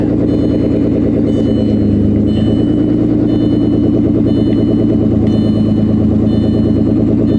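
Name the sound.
car engine starting and running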